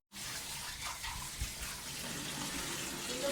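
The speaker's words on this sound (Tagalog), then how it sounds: "Napaghugas kami ng pinggan" Water poured from a tap or container for washing dishes at a riverside campsite in Tanay, Rizal: a steady, close splashing stream runs without a break, with small gurgles and drips and no voices.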